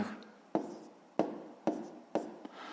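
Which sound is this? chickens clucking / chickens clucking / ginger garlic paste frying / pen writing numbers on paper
pen writing numbers on paper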